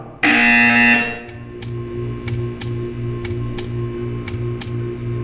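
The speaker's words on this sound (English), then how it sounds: "You will hear a buzzer." A loud, steady electronic buzzer from Portal 2 sounds alone for about a second, followed by a low hum with faint, regular ticking.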